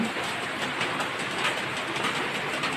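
A sudden heavy downpour keeps falling, a steady, close, full roar of rain with no voices over it.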